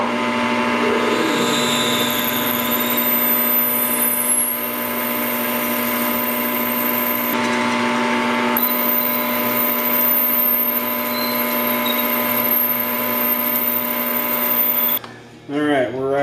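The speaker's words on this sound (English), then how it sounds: "we're going to be drilling 1 3/4 deep" A metal lathe drills a hole about 1 3/4 inches deep, producing a steady, loud mechanical whir with a sustained tonal hum and high whine throughout, ending with a brief disturbance near the end.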